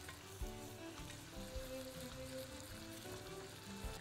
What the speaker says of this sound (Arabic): فانا هنا بقلب كويس قوي الزبدة مع الدقيق